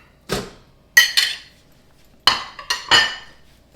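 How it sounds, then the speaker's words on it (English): Pieces of raw chicken drop into a metal air fryer basket, making five sharp, close clanks and thuds in two quick clusters. "I throw my chicken breast in the basket."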